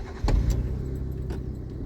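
A car engine in a driving-school car during a driving lesson cranks and catches with a short burst, then settles into a steady low idle rumble nearby, with no talking.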